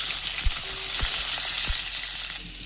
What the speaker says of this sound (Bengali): পটলগুলো দিয়ে একসাথে আমি চেরা কাঁচামরিচ দিয়ে দিলাম, দিয়ে এগুলোকেও ভেজে নেব